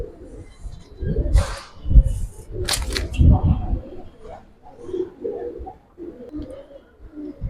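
A pair of 72-line Giribaz pigeons coo softly at close range in bursts, mixed with sharp clicks and fluttering knocks, as low murmured sounds come and go.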